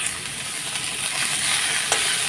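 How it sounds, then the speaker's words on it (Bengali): Leafy greens sizzle and hiss in a hot cooking pan as they are stirred, a close, steady frying sound with a faint scrape near the end and no talking. "শাকগুলো দিয়ে একটু নাড়াচাড়া করে নিই"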